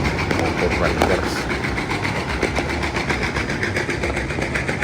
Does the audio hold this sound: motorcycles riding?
yes